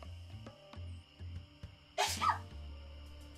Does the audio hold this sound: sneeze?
yes